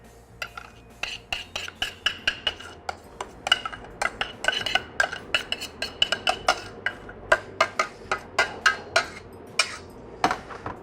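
Spoon clinking and scraping against a pot as cheese sauce is stirred into blanched spinach for creamed spinach, a steady run of sharp metallic taps and knocks, close and clear with no talking.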